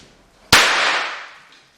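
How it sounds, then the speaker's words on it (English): One super snap firework thrown onto hard ground goes off in a single sharp, loud crack close by, followed by a brief hissing tail that fades over about a second. "All we need to do is to throw them against a hard ground surface, just like the other two snaps."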